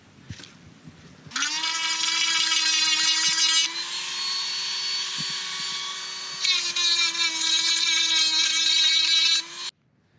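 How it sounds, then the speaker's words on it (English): A Dremel rotary tool whines at a steady high pitch while grinding burrs off plastic fender flare pieces, running in two long close passes with a slight change in tone between them, no talking over it. "Take an X-Acto or the Dremel tool and just clean this up real quick"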